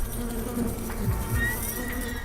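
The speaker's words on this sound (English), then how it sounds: "A swarm of bloated black flies blanketed her stumps, buzzing with demonic amplification." A swarm of bloated black flies buzzes steadily in a dense, droning hum, close and continuous, with individual wings whining past amid the mass.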